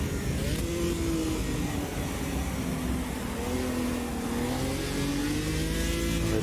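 Opala race car engine in the sim-racing game Automobilista 2, droning steadily under load as it accelerates, with a continuous loud engine note rising and easing slightly throughout.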